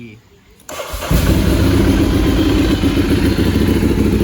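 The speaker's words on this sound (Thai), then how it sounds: "เดี๋ยวผมจะพาไปฟังเสียงเครื่องนะครับ" A Ducati Monster 796 ABS DP motorcycle engine starts after a short quiet moment, catching with a loud roar and then settling into a steady, throbbing idle close by.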